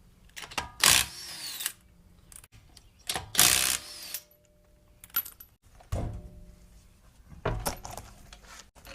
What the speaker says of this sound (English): All I gotta do is take the lug nuts off.